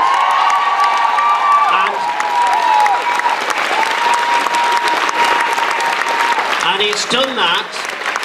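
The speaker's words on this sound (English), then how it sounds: "Give them a massive round of applause" Sustained, loud audience clapping with cheers and whoops for a band at the Customs House fellowship presentation, voices calling out over it throughout.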